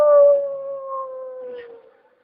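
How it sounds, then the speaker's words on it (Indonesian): A dog lets out one long, drawn-out howl that holds a steady pitch and slowly fades, heard alone at moderate distance with no talking over it. "pernah dengar suara lolongan anjing yang panjang?"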